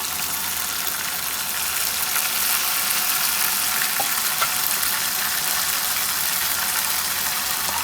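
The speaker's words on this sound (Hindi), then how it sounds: "एक से 2 मिनट अच्छी तरह मसाले को भून लेंगे" Tomatoes, green chillies, crushed red chilli and spices for chana fry in a pan with a loud, continuous hiss and sizzle and a few faint pops, with no voices.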